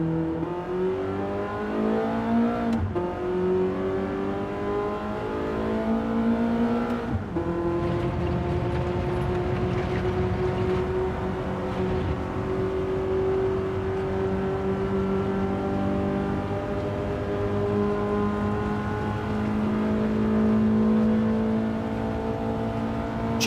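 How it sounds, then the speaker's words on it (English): A race car engine in Gran Turismo 7 drones and revs continuously, its pitch rising and falling with gear changes, loud and steady with no talk. "Love the sound of this car."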